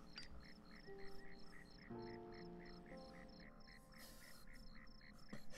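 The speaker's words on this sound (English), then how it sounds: "I can hear the crickets and frogs." Night ambience in the Deadly Premonition video game: a steady, evenly pulsing chirp of crickets layered with repeated frog croaks, soft and continuous, with a few brief tonal sounds joining partway through.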